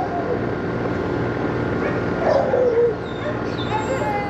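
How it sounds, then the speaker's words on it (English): Several dogs bark and whimper outdoors near an HVAC unit, with a whiny, rising-and-falling whimper in the middle over a steady mechanical drone and someone talking in the background. "please forgive all these dogs."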